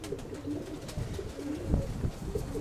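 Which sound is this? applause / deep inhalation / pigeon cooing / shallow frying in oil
pigeon cooing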